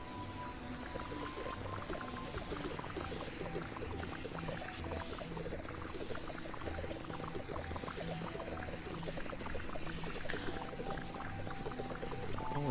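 Water pours steadily in the cleaning game Fresh Start Cleaning Simulator, a continuous splashing rush lasting throughout over low game music, with no talking.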